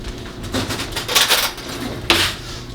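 A metal spoon clinks and scrapes against a glass jar of garlic, giving a few close, bright knocks and rattles, with a sharper clack near the end; no one talks.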